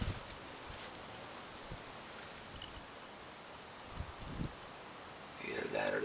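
Wind moving through trees in spring turkey woods, a steady soft rustle of leaves with a few low gusty buffets and a louder surge near the end, with someone speaking quietly over it.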